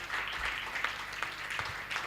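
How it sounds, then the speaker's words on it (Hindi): An audience at a comic poetry gathering claps, a fairly soft, diffuse patter of applause heard from some distance with a few louder individual claps. "एक बार इनके लिए ताली बजा के बता दीजिएगा"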